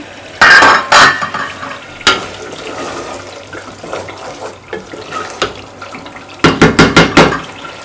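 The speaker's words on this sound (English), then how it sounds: "Sometimes giving your rice a very good rinse." Rice being rinsed in a pot of water, with sloshing, splashing and clattering grains, close and loud, including a burst of rapid swishing strokes near the end.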